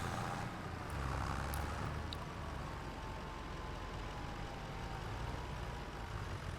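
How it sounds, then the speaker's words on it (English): A farm tractor being parked, its engine running as a steady low drone throughout, fairly quiet and constant, with a faint higher whine drifting over it. "I'm just going to park this tractor on this side now"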